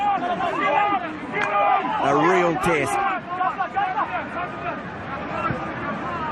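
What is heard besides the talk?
buzz of the crowd at a rugby match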